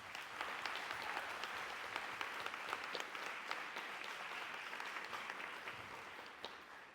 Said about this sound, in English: Let's clap it up for y'all.